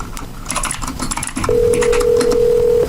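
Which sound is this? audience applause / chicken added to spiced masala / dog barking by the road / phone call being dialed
phone call being dialed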